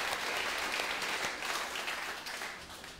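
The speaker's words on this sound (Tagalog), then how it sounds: "Pumalakpak ng the best sa mga nag-e-expect talaga at excited." Church congregation applauding during a service, a steady wash of clapping from many people that fades slightly at the end.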